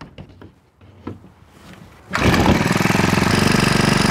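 After a few quiet clicks and taps of priming and setting the choke, a small two-stroke brush cutter engine catches and settles into a loud, fast, steady idle close by.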